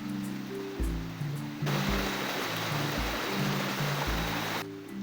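Water rushing steadily at a forest river where someone goes to bathe and wash, a continuous broadband wash with low rhythmic thumps running under it.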